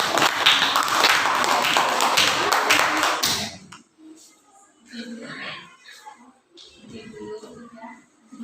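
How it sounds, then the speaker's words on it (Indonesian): Students in a classroom lesson burst into dense clapping for about three seconds, then it stops abruptly and voices take over, speaking through the rest. "Ya, tepuk tangan."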